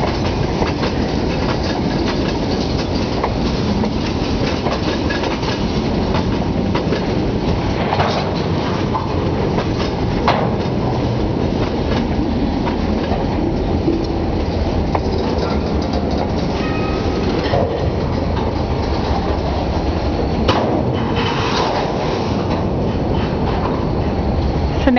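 A Berkshire Hills train rolls along the rails in a steady, unbroken rumble with faint clickety-clack of the wheels and occasional knocks from the cars, heard close and continuous with no talk.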